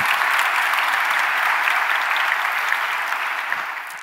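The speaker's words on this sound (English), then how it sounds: "Can we have another round of applause for 10 years?" Dense, loud audience applause at the JSConf EU 2019 JavaScript conference talk, a sustained roar of many hands clapping evenly throughout before starting to fade near the end.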